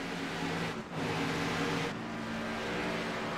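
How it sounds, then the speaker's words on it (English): Race car engines run on track during qualifying, a steady, loud engine roar that dips briefly twice as cars pass, with no talking. "let you guys hear some of the engines going out here."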